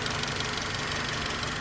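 The D17 VTEC engine in a 2003 Honda Civic with a blown head gasket runs close by, a loud, steady mechanical clatter with a rapid ticking, knocking texture and no break.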